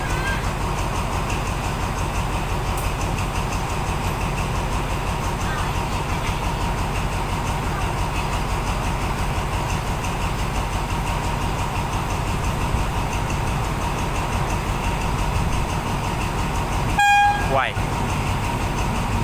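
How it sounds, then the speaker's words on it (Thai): Ordinary passenger train No. 254 from Lang Suan pulls into Thonburi station behind Alstom locomotive number 4307, with a steady rolling rumble throughout and a short horn toot near the end. "ขบวนรถธรรมดาขบวนที ่ 254 จากสถานีหลังสวนปลายทางธนบุรี กำลังจะเข้าจอดสถานีธนบุรีแล้วนะครับ"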